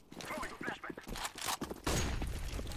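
Gunfire in Counter-Strike: Global Offensive on the Dust 2 map during a competitive match, with rapid bursts of shots repeating under and between a player's talking.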